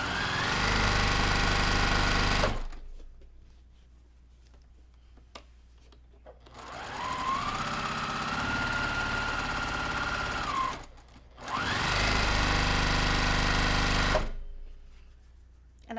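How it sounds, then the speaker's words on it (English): A sewing machine chain pieces quilt blocks in three loud bursts of rapid, steady stitching, separated by quiet pauses with faint handling noises, and the final run restarts near the end. "So then I'll have this on my sewing table and I'll just sew straight down."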